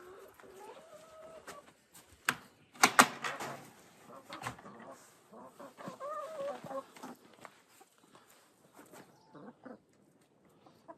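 Hens on a Latvian homestead in April are let out of their coop into a new outdoor area, clucking and rustling close by in scattered bursts while a person talks over them.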